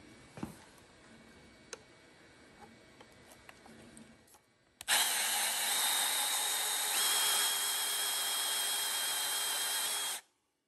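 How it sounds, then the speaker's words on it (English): Power saw cutting an aluminum bar of 1/8 by 3/4 inch stock to length, a loud steady whining cut lasting several seconds after quieter workshop ticks and clicks. "So I'm cutting the length, 1/8 inch by 3/4 by 24 long."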